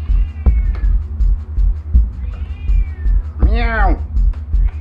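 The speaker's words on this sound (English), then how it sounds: "My cat's being very vocal." A cat meows loudly and close by, with a couple of fainter meows before it, over a steady low rumbling hum.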